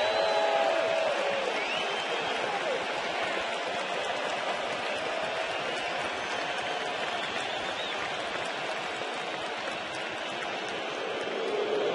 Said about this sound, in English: this crowd gets very excited every time Lincecum gets 2 strikes on the hitter